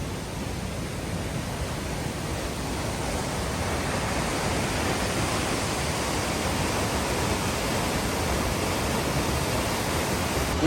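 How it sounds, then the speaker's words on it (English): A waterfall of acidic volcanic water in cold, rainy highland cloud, pouring as a steady, dense, broadband roar that stays constant and close throughout with no voices. "We've come to check out a beautiful waterfall."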